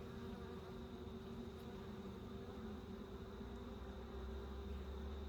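Steady, dense buzzing of many honeybees close by at an open hive, a continuous low hum with no pauses.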